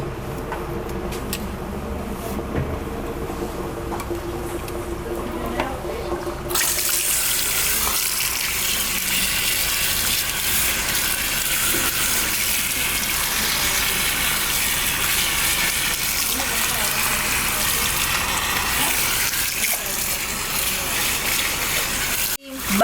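Tap water runs over hair at a salon wash bowl, rinsing out perm solution. A softer trickle swells into a loud, steady gushing stream that continues without a break.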